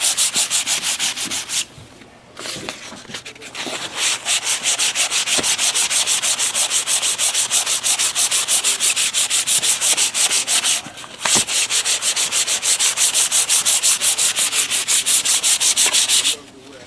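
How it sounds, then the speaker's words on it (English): Dry sanding of a plate to knock down small lumps, a close, steady rhythmic abrasive rubbing that runs almost continuously, with brief pauses between strokes. "I am going to have to sand this down to make sure I get those little lumps and bumps off it."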